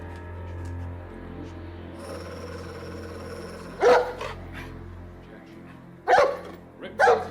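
A dog named Luna barks indoors in a house: three loud, sharp barks, one alone and then a close pair later, break a low steady background hum.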